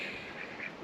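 Female ducks quacking in the background on a farm, a faint, soft cluster of distant nasal calls in a brief moment.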